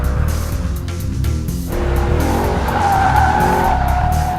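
A Mercedes-Benz C63 507 Coupe's tires squeal steadily as it circles a skid pad under hard cornering, with the engine droning loudly underneath and a rising howl of rubber building toward the end.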